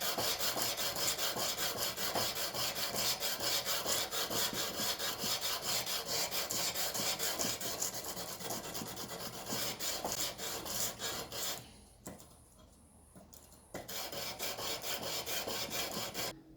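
A Bowie knife blade is sanded by hand with fine sandpaper in steady rapid back-and-forth rasping strokes for a long stretch, close and even, with a brief pause before the strokes resume.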